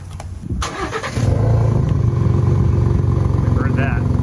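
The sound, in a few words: pickup truck active exhaust revving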